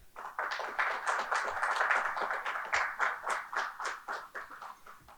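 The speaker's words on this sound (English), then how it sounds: "Let's give him a big round of applause." A small audience at a campus summit clapping for a speaker, a thin, uneven patter of separate hand claps that swells, then breaks into distinct slaps before fading, fairly quiet and with no speech.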